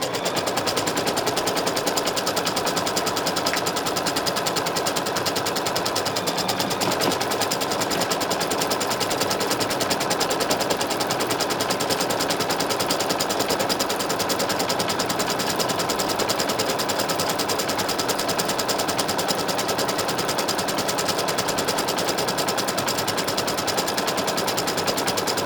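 An embroidery machine stitches out the first step of a felt flower pin, its needle chattering in a fast, steady rhythm that runs loud and unbroken throughout.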